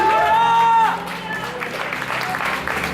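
A church congregation applauds during a prophetic conference service, crowd clapping rising after a sustained sung or spoken tone, then continuing as a dense, even wash of hands.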